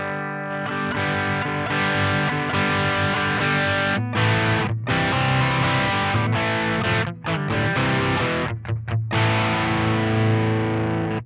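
An electric guitar played through a J. Rockett The Dude overdrive pedal with the gain turned up: crunchy, driven chords ring out alone in long sustained strums, broken by a few short choppy stops.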